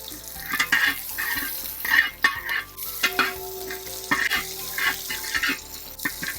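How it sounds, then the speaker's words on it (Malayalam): About a hundred grams of garlic sizzles in hot oil for a Wayanad-style bone curry, with steady frying crackle and repeated scraping stirs of a spoon in the pan, close and fairly loud throughout. "വെളുത്തുള്ളി ഒന്ന് മൂത്ത് വരുമ്പോൾ"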